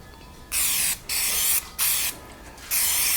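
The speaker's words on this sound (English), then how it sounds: "Now, I'm going to spray all the way to the edge of my material." Several bursts of aerosol spray adhesive hiss loudly from a can onto door trim panel material, four spurts with short pauses between them, close by.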